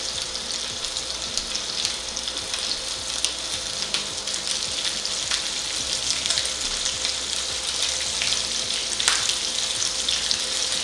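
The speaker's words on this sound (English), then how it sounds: "You want to start stirring the pork to get it nice and crispy." Pork crisps in hot oil in a pan, giving a loud, continuous close sizzle and crackle. The spatter is dense, with occasional stirring scrapes and no talking.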